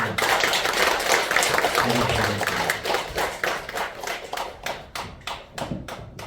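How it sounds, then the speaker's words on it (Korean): An audience applauding at the close of a Buddhist dharma talk during a memorial service at a temple in Gimje, with sustained crowd clapping that gradually thins into scattered claps, and a voice speaking over it. "다시 한번 큰 박수."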